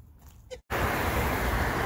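Busy road traffic on Tennessee 109 in Portland, Tennessee: a sudden loud, broadband roar of passing vehicles that follows a quieter moment, steady and close.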